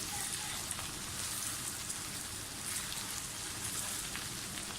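Okra frying in oil for masala bhindi, a steady dense crackling sizzle that runs without a break at moderate level, with no voices over it.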